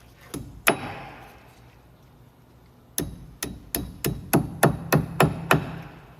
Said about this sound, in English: And then you just fold it around with some pliers.